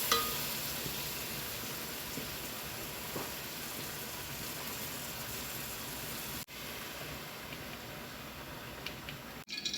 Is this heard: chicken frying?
yes